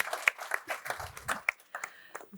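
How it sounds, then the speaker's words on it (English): Scattered claps from an audience at an investing podcast event, sparse and uneven hand strikes with brief low murmurs, fairly quiet overall. "Ladies and gentlemen, a round of applause for Moira,"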